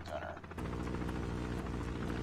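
A chopper gunner helicopter in the mobile shooter COD Mobile gives a steady low rotor drone that kicks in after a brief moment and holds evenly, quiet and under a player's talk.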